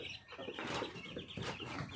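Chickens clucking on a farm, a brief faint burst of overlapping clucks and calls, close but quiet.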